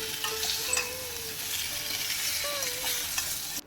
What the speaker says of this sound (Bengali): মশলাগুলো দিয়ে সবজির সঙ্গে ভালো করে কষাবো